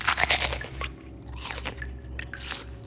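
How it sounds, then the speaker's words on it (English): Wet crunching bites and chewing come in irregular bursts, loud and close, with squishy, dripping textures between the crunches. "until the chewing began"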